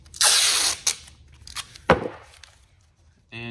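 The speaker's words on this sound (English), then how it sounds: "Flip this baby over, pull out your masking tape" Masking tape is pulled off the roll and torn for masking a car tail light before painting: a sharp ripping strip, then a few short tearing snaps and a closing rasp, close and alone.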